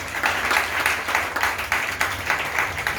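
A church congregation claps together in praise of the Lord during a French-language Sunday morning deliverance prayer service, steady rhythmic clapping at moderate volume, filling the room throughout.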